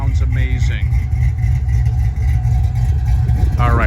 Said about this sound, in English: a big badass 4 9-inch rear end and dual exhaust, which sounds amazing